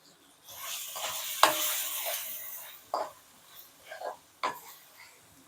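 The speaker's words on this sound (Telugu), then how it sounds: "ఇలా మగ్గుతుంది కదండి వంకాయ ముక్కలు మగ్గేస్తున్నాను మనం" Brinjal pieces cooking in a pan give off a soft sizzle, broken by several spatula stirs and clinks against the pan in short, uneven bursts. The sounds are fairly close and at moderate volume.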